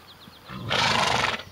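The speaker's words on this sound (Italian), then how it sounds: "Cavallo del West." A horse gives a loud, close neigh lasting under a second, rising sharply and then trailing off, preceded by faint background sounds.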